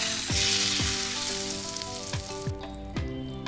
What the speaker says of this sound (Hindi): तड़का हमारा तैयार हो गया है। अब इसे हम दाल में डाल देते हैं।